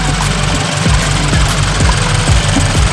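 A 2014 Scion FR-S with a loud aftermarket exhaust rumbles close and heavy, with a rapid, uneven thumping pulse that throbs steadily throughout.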